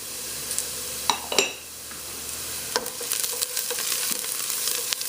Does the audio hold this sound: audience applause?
no